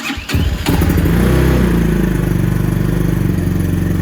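A Venom X22R Max 250cc motorcycle engine cranks with a few clattering thumps, catches, then settles into a steady, close, pulsing idle that runs a little high while warming up.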